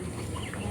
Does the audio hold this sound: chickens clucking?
yes